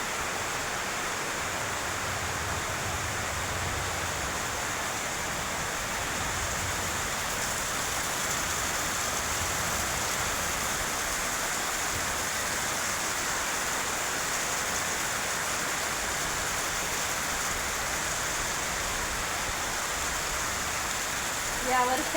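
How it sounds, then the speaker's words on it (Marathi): The year's first rain pours steadily outdoors, a dense and continuous wash of falling water that holds an even level throughout with no pauses. "या वर्षाचा पहिलाच पाऊस"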